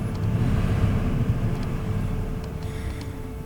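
A 1997 Chevy 1500 4x4 pickup engine idles steadily up close, a loud, even low rumble that holds constant throughout with no speech over it.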